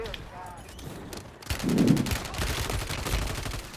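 Rapid bursts of automatic gunfire in the Call of Duty video game, starting about halfway through and repeating densely with loud, close crackling shots under players' voices.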